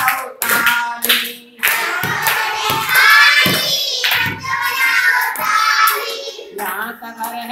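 A child's Hindi alphabet rhyme with hand claps: sharp, close claps come in short bursts between sung lines, with childlike voices singing over much of the clapping.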